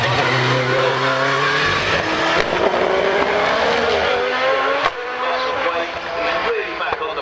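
Sean Gould's race car, one he built himself, on a hillclimb run at Harewood, loud and close with engine revs rising and shifting over a continuous roar, with a commentator talking over it.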